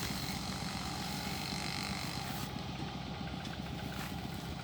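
A water pump engine drives water into a green rice paddy, a steady droning hum that runs unbroken and fairly loud, with a low chugging pulse underneath and no voices.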